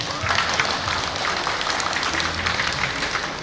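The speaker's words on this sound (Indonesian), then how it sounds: "Tepuk tangan dulu untuk saya." Audience applause at a retirement celebration for a professor: dense, steady clapping from a crowd, filling the whole stretch at an even, fairly loud level.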